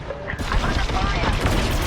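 Rapid starfighter blaster fire crackles through a dogfight in Star Wars: Squadrons, a dense continuous volley of laser shots with a faint voice underneath.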